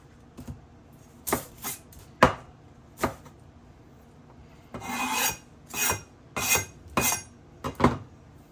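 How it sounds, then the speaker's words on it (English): A knife cuts through an onion on a board, giving a series of sharp chops and rasping slices in an irregular rhythm, close and clear, with no talking. "I'm just gonna cut it in the middle without removing the root"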